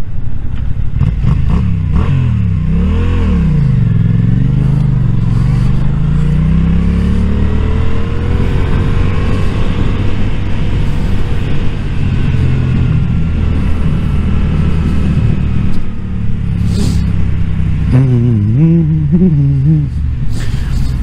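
A car drives along a road, its engine note rising and falling with shifting revs over a steady rumble of road and tyre noise, loud and continuous throughout with no talk.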